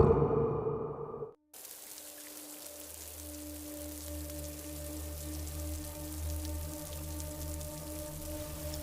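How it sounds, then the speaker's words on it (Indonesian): Heavy rain pours over dense forest in the interior of Kalimantan at night, a steady close hiss with a low droning undertone that begins after a brief moment of silence. "Hujan turun begitu deras, menyamarkan batas antara rimbunnya hutan dan gelapnya malam"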